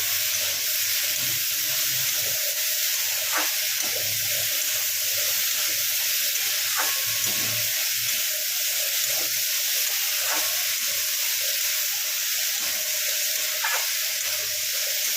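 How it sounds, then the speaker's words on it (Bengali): Bitter gourd and potato curry fries with spices in a pan, giving a constant loud hiss of sizzling oil with occasional soft scrapes and clicks of stirring throughout. "ভালো করে ভেজে নেবো তরকারি, মানে মশলাগুলোকে ভালো করে মিশিয়ে দেবো।"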